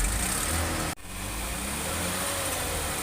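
A 2010 Lexus GS 300 with a 3000 cc engine and its catalytic converter removed runs loud and close, a steady rough engine drone with a sudden brief cut in sound partway through.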